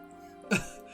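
A single short cough, fairly close and clear, rising out of a quiet background and fading quickly.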